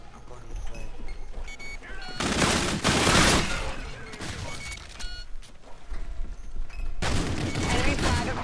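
Heavy gunfire in a flag-capture shooter game: dense bursts of rapid automatic shots and crackling fire in two loud stretches, broken by quieter gaps of scattered shots, with players talking throughout.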